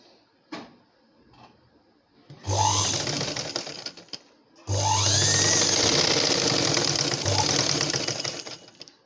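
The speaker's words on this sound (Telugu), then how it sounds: "ఇప్పుడు షోల్డర్ దగ్గర నుంచి స్టిచ్చింగ్ చేసుకోవాలి." A sewing machine stitches a blouse from the shoulder in two steady, loud whirring runs of several seconds each, with a short pause and light handling clicks before and between them.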